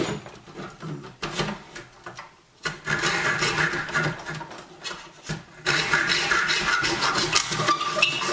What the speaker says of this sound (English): So, cutting a couple dowels